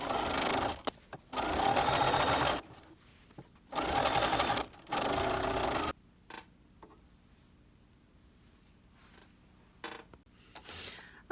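A sewing machine stitches a velvet kimono neckline a quarter inch from the edge: two loud close whirring bursts of stitching with a short pause between, followed by quieter handling clicks and creaks.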